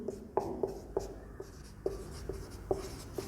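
Chalk or marker writing on a board during a Hindi-language geography lecture, a series of short, sharp taps and strokes at an irregular rhythm, close and fairly quiet with no talk over it.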